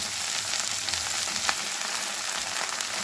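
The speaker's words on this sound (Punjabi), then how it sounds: "ਇਹਨਾਂ ਨੂੰ ਚੰਗੀ ਤਰ੍ਹਾਂ ਸੇ ਫਰਾਈ ਕਰ ਲੈਣਾ ਜਦ ਤੱਕ ਹਲਕੀਆਂ ਬਰਾਊਨ ਨਹੀਂ ਹੋ ਜਾਂਦੀਆਂ" Okra (bhindi) fries in a pan for sabzi, a continuous, even sizzle and crackle of hot oil with small pops scattered throughout, close and steady with no voices.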